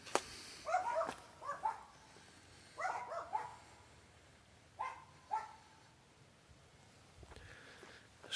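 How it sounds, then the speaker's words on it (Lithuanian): Small puppies bark in scattered short bursts in the town of Pajevonys, Lithuania. The barks are faint and somewhat distant against a quiet background. "Šuniukai loja."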